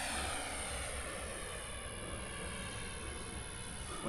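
A model jet aircraft, a Rafale or Tomcat, flies a circuit at an RC flying field, its steady turbine whine and rushing roar continuous and distant, with no voices.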